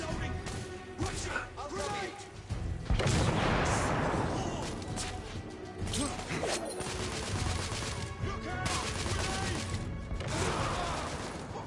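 Gunfire and grenade blasts from combat in The Order: 1886, with a dense, continuous roar of shots and a heavy explosion burst partway through, while voices shout over the battle.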